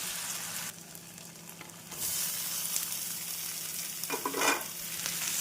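Potatoes sautéing with onion and ginger-garlic paste for a wedding-style potato masala, a steady close sizzle with scraping stirs and a louder burst of frying near the end.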